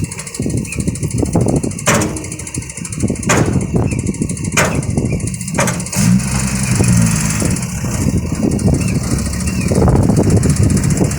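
Two farm tractors strain to pull a stuck vehicle out of deep mud, a loud, close engine rumbling and surging continuously, with a few sharp knocks and clanks breaking through.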